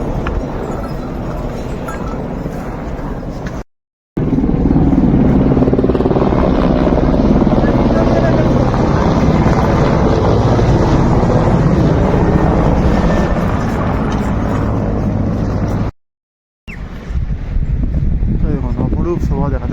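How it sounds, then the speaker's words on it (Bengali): A helicopter flies past over mountain terrain on a high-altitude pilgrimage trail near Baltal, its loud, steady rotor drone filling most of the clip with a couple of brief dropouts. "আবার একটা হেলিকপ্টার চলে যাচ্ছে।"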